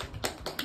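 A child's hands clap a few times at a home welcome party with cake cutting, three short sharp claps spaced about a third of a second apart, close and fairly quiet.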